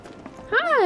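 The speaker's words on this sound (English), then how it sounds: "Did you hear that just now? I think one of Betty's cats might be nearby." A cat in the video game Final Fantasy 7 Remake lets out a single short, clear meow nearby, rising then falling, after a brief moment of faint background sound.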